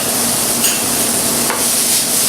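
Okra masala is stirred in a hot pan, giving a continuous close sizzle with scraping and clacks of a spoon against the pan and no voices.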